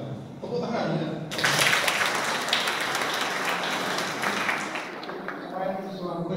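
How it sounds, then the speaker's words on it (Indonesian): Audience applause breaks out in a parish hall, a sudden wave of many clapping hands after a voice, holding strong then easing, with speech resuming near the end. "Tepuk tangan ya."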